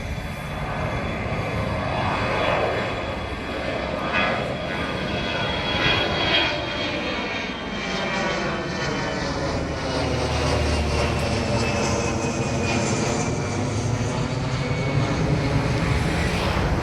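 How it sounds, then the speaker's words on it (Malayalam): An airplane approaching to land near the airport at Ernakulam, Kochi, its engine roar steady and loud throughout, with a slowly shifting whine as it passes overhead. "ഇതിൻ്റെ അവിടുന്ന് ഒരു വിമാനം വരുന്നുണ്ട്."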